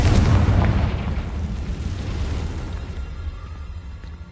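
A loud booming blast from the Confringo spell in a Harry Potter–style video game hits at once, then rolls off into a fading rumble over several seconds.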